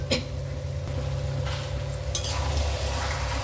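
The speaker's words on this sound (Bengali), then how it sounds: "আমি ঢাকনাটা খুলে আবার একটু নেড়ে চেড়ে দিচ্ছি।" Chicken curry being cooked down in a pan with the lid off, a few scraping stirs and brief clatters over a low steady kitchen hum and soft sizzle, no talking.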